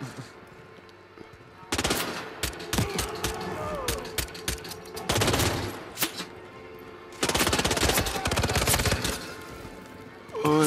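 Bursts of rapid automatic gunfire in a Hitman game set in a Scottish castle, several loud volleys separated by brief lulls, with scattered single shots in between.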